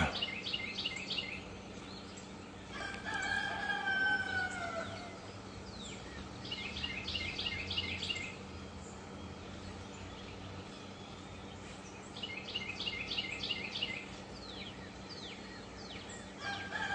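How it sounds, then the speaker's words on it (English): Roosters crow several times at a distance at sunrise, each call a short rising-falling burst, over steady outdoor background noise and birdsong. "When the roosters crow, I'll see what I can do."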